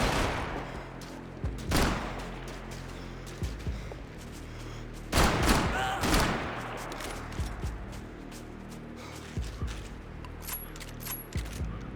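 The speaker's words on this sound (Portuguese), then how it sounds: "o cara veio me atirar" Gunfire aimed at the player in the video game Max Payne 3, with several loud bursts of shots and impacts standing out over a busy, noisy game soundscape, separated by quieter stretches.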